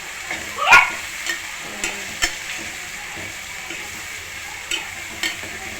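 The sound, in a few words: frying and stirring food in a pan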